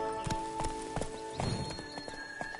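Horse hooves clip-clopping in The Witcher 3, a quick steady rhythm of thuds close by, with a steady tonal music-like hum underneath.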